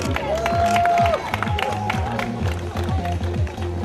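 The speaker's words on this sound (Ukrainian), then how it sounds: "Аплодуємо нашим фінішерам, аплодуємо" Spectators at a city-day street race applaud runners crossing the finish line, steady crowd clapping mixed with cheering and a loud public-address voice speaking over it throughout.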